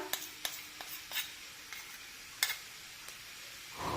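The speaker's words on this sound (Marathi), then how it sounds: "आता गुळ सुद्धा व्यवस्थित मिक्स करून घेऊया" A spoon stirs grated jaggery into apple ladoo mixture in a pan, producing a faint sizzle punctuated by irregular sharp clicks and scrapes against the pan, with no talking.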